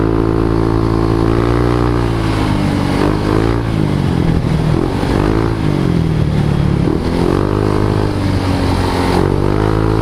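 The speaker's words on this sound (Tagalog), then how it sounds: "ang gamit nga pala natin motor is Honda PCX 160" A Honda PCX 160 scooter in stock form runs steadily while being ridden, its engine note rising and falling with throttle changes under constant, loud wind and road noise.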